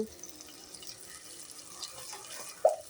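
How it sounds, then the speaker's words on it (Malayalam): Water pours into a pot for a Kerala sardine fish curry with kudampuli, a faint steady splashing trickle with a brief louder splash near the end, no one talking. "കുറച്ച് വെള്ളമൊഴിച്ച് കുറച്ച് വെള്ളമൊഴിച്ച് തന്നു"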